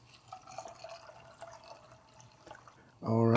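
Hot water pours into a cooking pot meant for split peas, a brief loud gush with a rising filling tone arriving at the very end after a quiet kitchen stretch.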